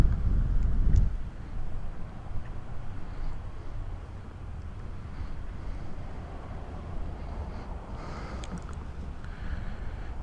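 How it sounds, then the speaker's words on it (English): Low, steady wind rumble buffets the microphone throughout, with a brief louder gust at the start and no voices. "So it's pretty windy."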